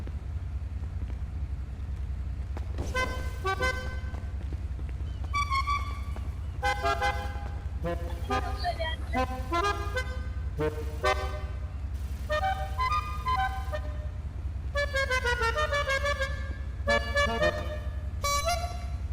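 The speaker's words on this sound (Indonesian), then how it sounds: "Sama kayak klakson gua tuh." A car horn honks again and again in a GTA roleplay game over a steady engine hum, with bursts of short toots and longer blasts of varying pitch coming one after another throughout.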